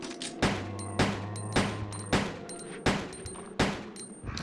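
Ada's handgun in Resident Evil 2 fires about seven sharp, evenly spaced shots in quick succession, each a loud crack with a short tail, alone and close.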